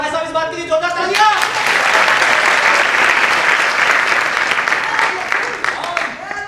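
A crowd at a theatre comedy performance bursts into strong, sustained applause, rising after a brief spoken or musical lead-in, then holding a full dense clapping roar before tapering slightly.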